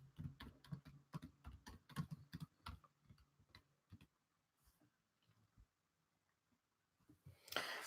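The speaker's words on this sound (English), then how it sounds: "What am I typing here?" Rapid bursts of keyboard typing on a computer keyboard, clustered keystrokes clicking quickly for about three seconds, then sparse faint taps and a brief louder rustle at the end; no speech.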